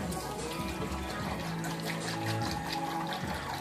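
Water poured from bottles into a small rock waterfall makes a steady, close, splashing gurgle that runs without a break throughout.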